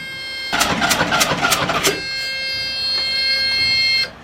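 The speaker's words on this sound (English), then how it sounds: "That beeping is really unnerving." A loud electronic alarm on a sailboat sounding with a steady tone under the rumble of its diesel engine, rapid pulsing at first then a continuous drone that cuts off abruptly.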